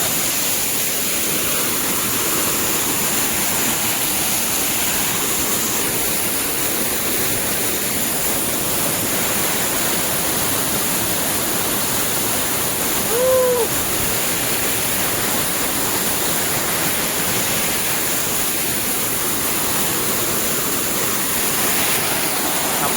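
Waterfall at Machi tumbling down a rocky drop, a steady broadband rush of falling water that stays even and close throughout, with one brief faint chirp-like sound partway through.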